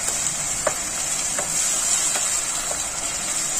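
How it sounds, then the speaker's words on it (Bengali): Hot water hitting a pan of banana flower cooking for a vegetarian mochar ghonto sets off a loud, continuous sizzling hiss up close, dotted with a few light clicks of stirring and no voices. "আমি গরম জল দিয়েছি, মোচাতে একটু গরম জল দিলাম।"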